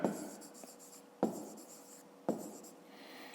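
Numbers being written by hand on paper, with three distinct pen or pencil strokes starting roughly a second apart, each followed by softer scratching, close and fairly quiet with no talking.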